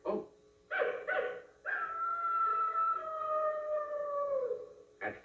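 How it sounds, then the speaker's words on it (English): A coyote howl, presented as a sound effect in a comedy sketch: a few short yelping bursts rise into one long, sustained wavering howl that slides downward before ending, followed by a brief final yip. "That's a coyote."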